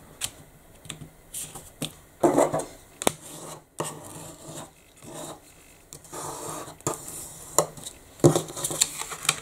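Paper being folded and creased by hand for a traditional origami ninja star, with close, intermittent crinkles, rustles and sharp taps in an irregular rhythm and no talking.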